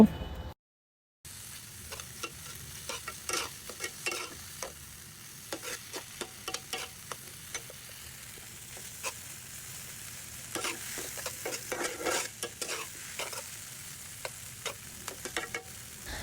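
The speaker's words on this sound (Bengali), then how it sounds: "নুডলসগুলোকে মশলার মধ্যে ভালো করে নেড়ে চেড়ে নিচ্ছি" Noodles being stirred through spices in a hot pan for Korean-style noodles, with steady scraping and tapping strokes over a soft, continuous sizzle, close and moderately loud after a brief silent gap at the start.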